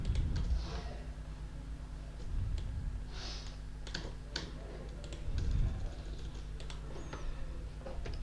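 Someone types code on a computer keyboard in quick irregular bursts of key clicks, fairly close, over a low steady background hum.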